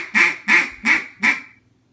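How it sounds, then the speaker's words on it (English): Duck call blown as a comeback call, four loud, evenly spaced nasal quacks close up, each about a quarter second, with no talking. "Now your comeback call is a little bit more advanced."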